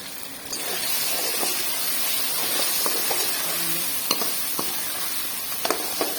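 Spices and dry coriander frying in a pan give a continuous close sizzle and hiss, broken by occasional spoon taps and scrapes against the pan.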